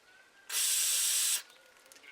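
A single loud hiss of aerosol cleaner sprayed into a Vespa PX scooter carburetor, lasting about a second, close by, surrounded by quiet.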